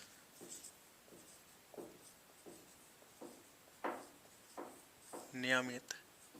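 Chalk or marker writing on a board in a physics classroom: a close run of short scratchy strokes in an irregular rhythm, with a brief voice toward the end.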